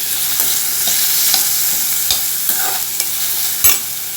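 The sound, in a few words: sautéing onions and tomatoes in a pan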